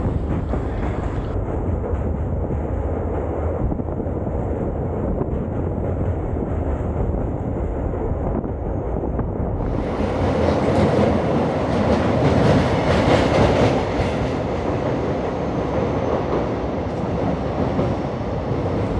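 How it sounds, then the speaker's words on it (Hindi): A train crossing the New Pamban Bridge, which has a hydraulic lift section, heard from on board as it gathers speed to about 40-45 km/h. There is a loud, steady rumble of wheels and carriages throughout, growing brighter and louder midway, with no talk. "अब हमारी ट्रेन ने भी धीरे धीरे 40-45 किलोमीटर पर आवर की रफ्तार पकड़ ली है"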